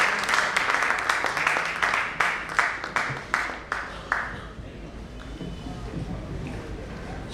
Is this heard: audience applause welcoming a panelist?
yes